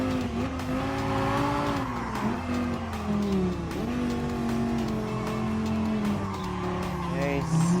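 Tires squeal in a long, wavering screech as a Bugatti Veyron slides through a corner in the Gran Turismo Sport racing game, loud and steady over a droning engine, with a voice heard faintly underneath.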